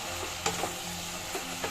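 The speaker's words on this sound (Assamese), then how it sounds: "ইয়াত দিলোঁ আলু ইয়াত দিছোঁ পটল দি গোটেইখিনি ভালদৰে লৰাই দিছোঁ" Potatoes and pointed gourd sizzle in a hot frying pan, a steady close hiss broken by a few soft scrapes of stirring, with no voices.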